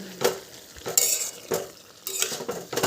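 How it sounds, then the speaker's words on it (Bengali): Bathua greens are stirred in a pan with repeated scraping and clinking strokes of a utensil over a soft sizzle, close and rhythmic with no talking. "ঠিক এই রকমটাভাবে একটু ছাড়িয়ে ছাড়িয়ে বেতো শাকগুলোকে নাড়িয়ে দিচ্ছি"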